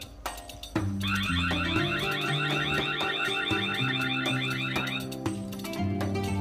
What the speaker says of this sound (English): the camera gives off a buzzing alarm noise along with some flashing lights